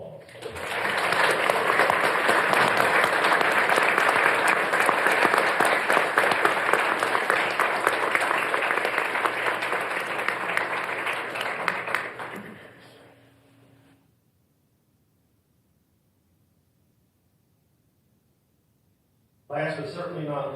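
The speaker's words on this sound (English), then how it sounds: "Join me in a round of applause." Audience applause fills a city council meeting in Greer, South Carolina: sustained dense clapping for about twelve seconds, fading to silence, then another burst of clapping near the end.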